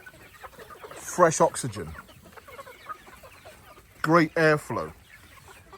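Farm chickens cluck in two short clusters of close, sharp calls. Someone talks quietly in between.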